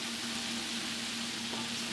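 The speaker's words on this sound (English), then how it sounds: "we're not pan frying these really hard. We're just letting this meatball cook all the way through" Greek meatballs (keftedes) frying gently in a pan, giving a soft, steady sizzle that stays even and low for the whole stretch, with no voices.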